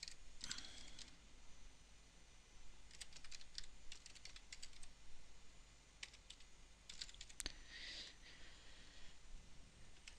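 Keys clatter on a computer keyboard as an email address is entered, quick bursts of close clicks separated by short pauses, fairly quiet over a low steady hum with no talking.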